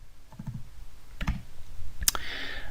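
Several light keystrokes on a computer keyboard, scattered clicks with a couple of louder taps, close by and alone without talk.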